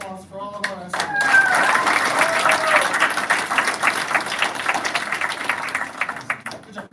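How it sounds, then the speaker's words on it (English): At a DTMS DARE graduation, a crowd breaks into sustained applause for the graduating students, steady and fairly loud, after brief voices and a whistle-like tone at the start, then tapers off. "One more round of applause for all of our estimates."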